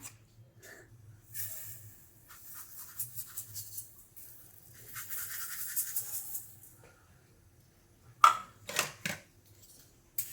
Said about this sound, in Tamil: இதை இப்போது லைட்டாக வறுத்து எடுத்துக்கலாம்.